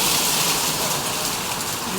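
Steady rain pours outdoors over a barbecue gathering in Cyprus, a dense close hiss of drops striking surfaces that holds even and loud throughout with no voices.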